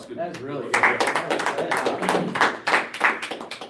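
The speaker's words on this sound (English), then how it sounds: "Round of applause." A small group at a training session claps in a short, uneven burst of hand claps and taps, mixed in with a person talking over it at close range.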